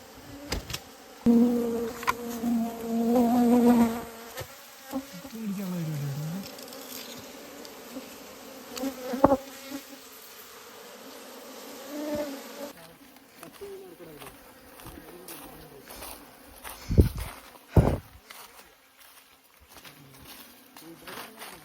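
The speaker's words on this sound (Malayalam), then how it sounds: "ഈച്ച ഉണ്ടോ ഇല്ല ഇല്ല ഉണ്ടേ ഇല്ലേ രാജേന്ദ്ര" Honey bees buzz around freshly harvested honeycomb, their whining drone rising and falling close to the microphone as people talk nearby.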